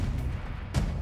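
A grenade blast from the Call of Duty Modern Warfare 3 open-world zombies mode, heard as deep booming rumbles, with one heavy burst near the end of a short second-long stretch.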